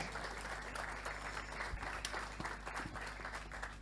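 An audience applauds Pacho Flores at the 66th anniversary celebration of Club Oriente Petrolero, a steady wash of clapping heard at a distance under a constant low hum.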